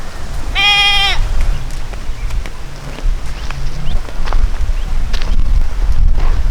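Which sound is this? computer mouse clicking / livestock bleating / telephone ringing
livestock bleating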